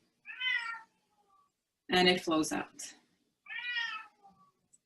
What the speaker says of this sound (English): I apologize, my cat is loud.